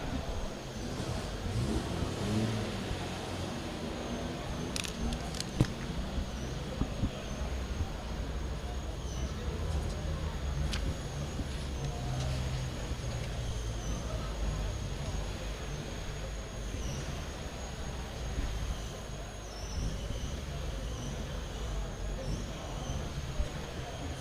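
A Ford Cortina Mark 1 GT four-door at a classic car auction, its engine idling steadily with occasional light revs, fairly faint and rough, under a continuous bed of crowd and auctioneer talk.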